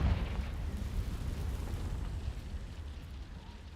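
A Confringo fire spell explodes in the Hogwarts Legacy video game, a low rumbling burst that fades gradually into a soft roar.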